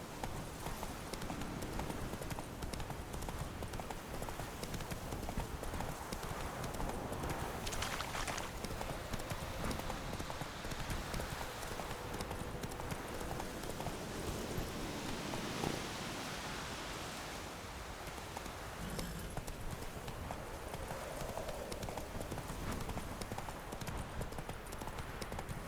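Horse hooves in The Witcher 3 video game clip-clop in a steady, continuous gait over a bed of rustling ambient noise, moderately close throughout.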